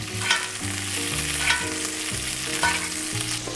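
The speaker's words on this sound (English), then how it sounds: "So now I'm adding a little bit of lemon and some of this butter into the pan. And so now we're gonna use the butter to baste it a little bit." Chilean sea bass fries in a pan with lemon and butter and is basted, giving a steady close sizzle broken by several soft scraping and spooning sounds, with nobody speaking.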